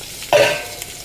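Food frying in a pan, a short burst of sizzling with a quick stir, loud and close, fading after half a second.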